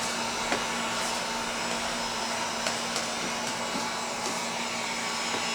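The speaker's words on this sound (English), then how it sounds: "you don't want to leave your heat gun in one spot for too long" A heat gun blowing hot air onto tint film on the rear window of a 2017 Chevy Cruze, a steady whooshing fan hiss with a faint constant motor whine and small ticks, close and even throughout, no voices.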